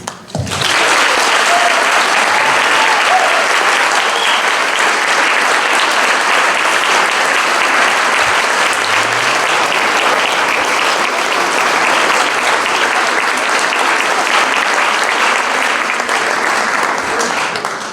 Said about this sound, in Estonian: Soovime talle üheskoos suure ja südamliku aplausiga tervist ja rõõmu.